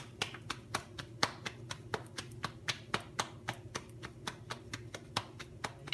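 Floured hands pat and clap the edges and center of a potato-stuffed roti dough to flatten it, a steady run of sharp, close slaps over a low kitchen hum.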